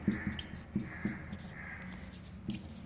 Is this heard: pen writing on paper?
yes